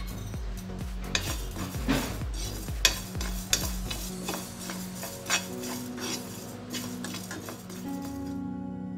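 Cumin, fenugreek and sesame seeds dry-roast in a pan on the stove while a spoon stirs them, making close scraping and light metallic clinks over a soft, continuous rustling crackle.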